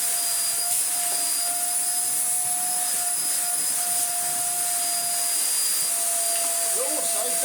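A Morphy Richards Perform-Air 73381 upright bagless vacuum cleaner runs with a loud, steady whining roar and a constant high tone, unbroken throughout.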